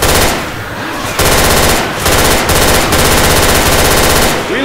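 Rapid automatic gunfire in Left 4 Dead 2, dense continuous bursts with brief pauses, loud and close, with faint talk beneath.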